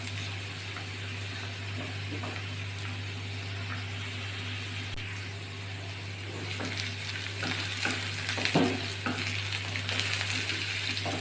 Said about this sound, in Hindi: अच्छे से हम इसे फ्राई करेंगे।